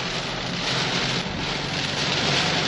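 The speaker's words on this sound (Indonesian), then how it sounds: "Benar-benar hujan deras dan hujan angin ini." Heavy tropical storm rain pours down steadily with gusting wind on the road to Curug Sodong in Ciletuh Geopark, Indonesia, a dense, loud hiss filling the whole stretch without pause.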